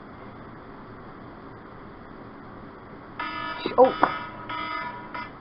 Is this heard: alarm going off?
yes